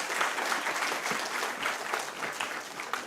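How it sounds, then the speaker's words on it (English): A conference audience at an arbitration panel discussion applauds the panelists, a steady, fairly loud burst of many hands clapping that holds evenly throughout. "May we give one last round of applause to our panelists here."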